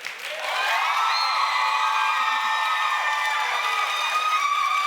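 Loud, sustained crowd noise from a studio audience at a Steve Harvey dating show, with whooping and shouting voices layered over clapping, rising quickly at the start and staying full throughout.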